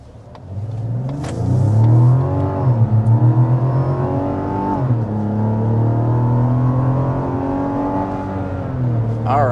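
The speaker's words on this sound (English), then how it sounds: "there's past 60 miles an hour in the all-new Mazda CX-90" A 2024 Mazda CX-90 accelerates hard in sport mode, its engine note climbing and rising in pitch through a gear change, then pulling strongly again, loud and close throughout.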